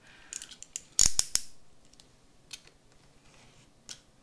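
A small craft knife slices paper on a cutting mat at a crafting desk, giving a few sharp scraping cuts close by, the loudest around the middle, then lighter scratches and taps.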